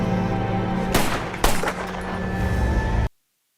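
Gunfire crackles in a film scene, with two sharp shots standing out over a dense, noisy background before the sound cuts off abruptly.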